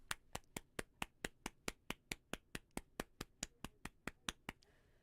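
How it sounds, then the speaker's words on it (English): Two people clap their hands together in a steady unison rhythm, about twenty sharp, close claps at an even pace before falling quiet, with no talking. "Should we clap it in?"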